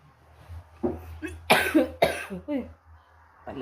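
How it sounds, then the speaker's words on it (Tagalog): A person coughs several times in short, harsh bursts, close and fairly loud, with quiet gaps between coughs. "Umuubo mga kaibigan."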